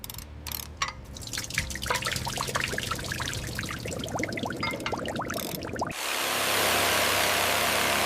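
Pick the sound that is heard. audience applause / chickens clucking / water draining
water draining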